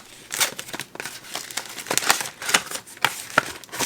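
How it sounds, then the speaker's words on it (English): Paper wrapping is torn open while a monthly beauty subscription box is unboxed, giving a close run of crinkly rips and rustles in uneven bursts. "oh, I'm gonna end up ripping the paper."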